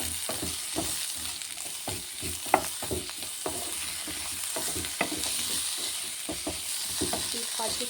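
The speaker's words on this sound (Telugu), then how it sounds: "అల్లం వెల్లిగడ్డ పేస్ట్ ఫ్రై చేసుకోవాలి." Onion with ginger garlic paste and turmeric frying and being stirred in a pan, a steady close sizzle with repeated scraping clicks of the spoon, no talking.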